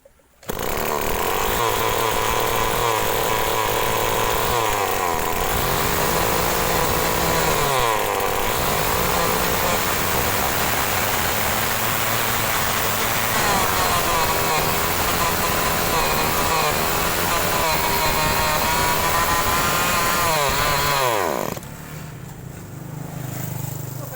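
A small two-stroke agricultural sprayer engine that won't rev properly roars loudly and raspily without a muffler for about twenty seconds, revving up and down before dropping to a lower idle.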